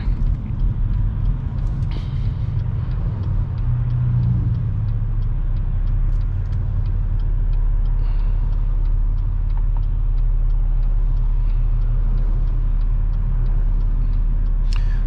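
A car on the road during a driving lesson, moving into the middle turn lane ahead of a protected left turn, gives a steady, loud engine and road rumble throughout with faint clicks, and nobody speaks.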